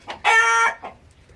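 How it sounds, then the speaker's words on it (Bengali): A Brahma chicken gives one loud, drawn-out harmonic cluck-call up close, with a couple of softer clucks just before and after. "এটা হচ্ছে ব্রাহ্মার মুরগি এবং এটা হচ্ছে ব্রাহ্মার অরিজিনাল মুরগি"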